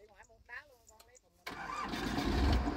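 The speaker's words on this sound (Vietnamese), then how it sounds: "Xe nổ máy bắt đầu di chuyển cái nè." A vehicle engine at a watermelon harvest cranks and catches abruptly midway, then holds a loud, rough, steady rumble, after a stretch of people talking.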